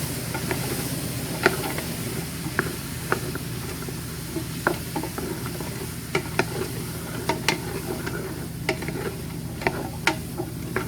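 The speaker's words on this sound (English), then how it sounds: "we're going to cook and stir this for 5 to 8 minutes, or until the vegetables begin to soften" Chopped onion and celery with parsnips sizzle in hot oil in a soup pot while a spoon stirs them, giving a steady frying hiss broken by scattered clicks and scrapes of the utensil, close with no talk.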